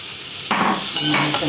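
Chopped cucumber stirred into coconut paste frying in oil for Kerala-style thoran, a quiet hiss and then two sharp bursts of sizzling and scraping as the pieces hit the pan.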